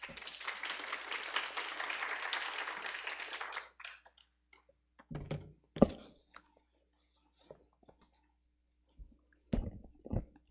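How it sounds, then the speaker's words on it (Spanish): An audience gives a presenter welcome applause at an academic arts event on Japanese culture, a dense clapping roar that lasts about four seconds and then dies away, leaving a quiet room with scattered clicks and small shuffling noises. "Démosle un aplauso de bienvenida."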